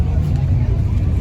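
A car engine at a car show hums steadily with a deep, low rumble, close by and continuous.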